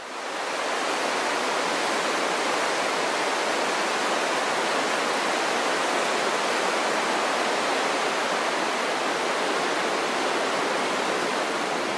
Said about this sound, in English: this horizontal waterfall here at Talbot Bay would be one of Australia's greatest natural wonders